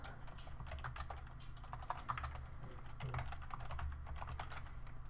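A computer keyboard taps out a URL in quick, quiet, irregular keystrokes over a steady low background hum.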